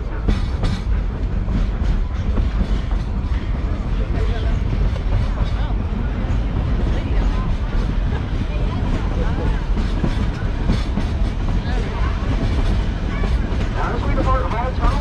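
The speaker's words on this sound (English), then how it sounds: "we're going to get the train back up to track speed once again" Steady rumble of a train rolling along the tracks of a loop railroad in Georgetown, Colorado, continuous and fairly loud, with faint rhythmic clatter and background noise throughout.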